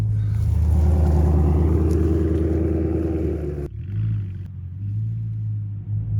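A BMW car drives off-road through woods, its engine a loud, continuous low rumble with a rough churning texture that suddenly drops to a quieter idle hum near the end.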